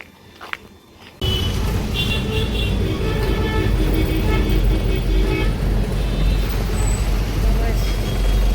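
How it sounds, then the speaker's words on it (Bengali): Bus ride toward Sealdah through city traffic: after a brief quieter start, a loud, steady engine and road rumble fills the cabin continuously, with faint voices underneath. "বাসে উঠে পড়েছি এখন শিয়ালদা"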